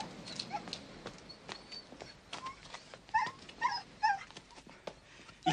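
A dog gives short yips and whimpering barks close by, scattered over a few seconds, with some light knocking and shuffling underneath and no talking.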